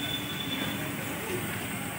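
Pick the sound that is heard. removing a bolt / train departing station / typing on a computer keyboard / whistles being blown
train departing station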